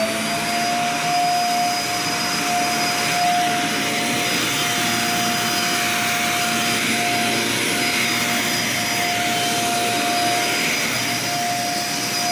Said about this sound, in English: So let's vacuum with it a little bit.